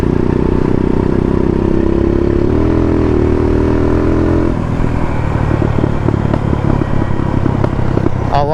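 A custom 2007 Hero Honda Karizma R motorcycle engine runs nearby on an evening ride: a loud, steady low engine drone that shifts and becomes rougher and more uneven partway through, rumbling continuously throughout.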